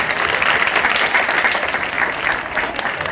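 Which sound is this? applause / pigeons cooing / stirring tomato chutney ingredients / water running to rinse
applause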